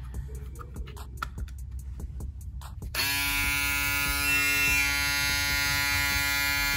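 Andis electric hair trimmer clicks on after a few seconds of faint handling taps, then runs with a steady, close, high-pitched buzzing hum that holds evenly to the end.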